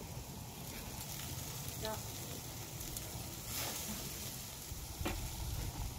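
Steak, veggie skewers and sausage sizzle on a grill as a steady, fairly quiet hiss and crackle, with occasional clicks and taps from handling the food and faint background voices.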